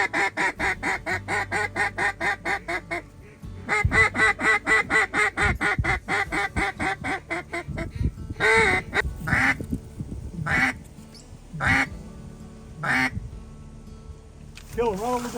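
Ducks on a farm duck hunt heard from a hunting blind: rapid, loud, close runs of raspy quacks in rhythmic series, then scattered bursts of quacking with short gaps between them.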